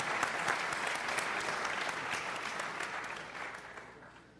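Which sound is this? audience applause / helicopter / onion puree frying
audience applause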